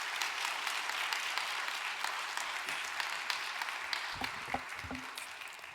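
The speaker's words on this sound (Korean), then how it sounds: "격려의 박수 한번 주시면 좋겠습니다" A church congregation at a Sunday service gives a round of encouraging applause, a steady, moderately loud wash of clapping throughout, with a few low thumps and a brief murmur of voice near the end.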